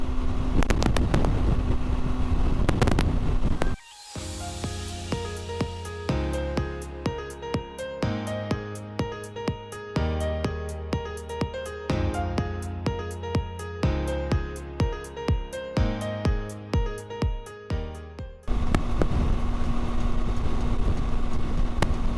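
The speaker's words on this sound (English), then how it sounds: "It is really windy outside." Loud, rumbling wind buffeting the microphone during a motorcycle ride to Yakima in a head crosswind, briefly giving way to a long stretch of music before the roaring gusts return.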